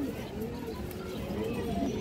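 A pigeon coos softly and steadily for two seconds amid a pigeon-sale loft setting, its low repeated calls blending into a continuous rustling background.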